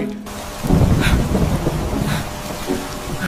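A deep rumble of thunder rolls under steady, heavy rain, loud and close, continuing throughout.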